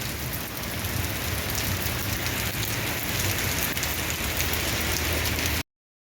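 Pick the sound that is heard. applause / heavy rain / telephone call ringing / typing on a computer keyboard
heavy rain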